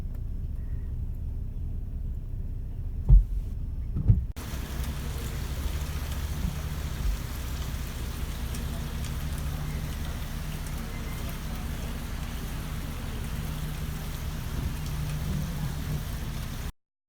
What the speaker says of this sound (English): It's really pretty, but it's so rainy.